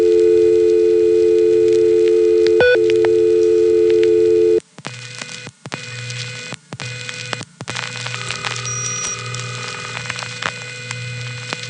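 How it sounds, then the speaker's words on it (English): A telephone line on a 1976-78 #1 Crossbar exchange in the Bronx: a steady ringing tone with one brief burst, then a click as the phone is picked up, followed by a hollow, choppy line with intermittent dropouts. "that was another 660 user ringing his phone and then picking it up"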